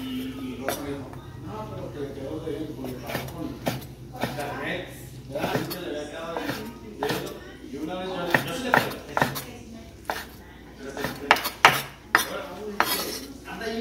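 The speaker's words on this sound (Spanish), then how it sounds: "Revolvimos el pepino." Stirring a cucumber, onion and tomato salad in a bowl for an octopus dish, with clinks and scrapes of utensils against the dish, close and intermittent, sharpening toward the end, while a person talks throughout.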